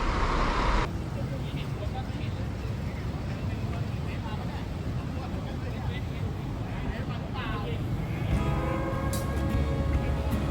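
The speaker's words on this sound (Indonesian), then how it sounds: "banyak bus-bus keren." Buses idle and move around a busy bus terminal, a steady engine rumble and roadway noise with crowd chatter and voices mixed in throughout.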